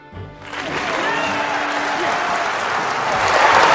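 A crowd applauds a Senate candidate before a debate, the clapping swelling in quickly and growing louder toward the end, with some cheering mixed in.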